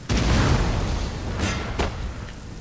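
Cannon artillery fires in the video game Napoleon Total War, a loud, deep rumbling boom that rolls on throughout, with a couple of sharper cracks breaking through partway.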